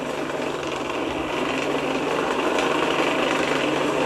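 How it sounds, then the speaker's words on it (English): Champion hand-cranked forge blower from a 1901 patent, running in a blacksmith shop: a steady, loud whirring drone with a high mechanical whine, continuous and unbroken throughout, no voices. "This is a champion blower right here."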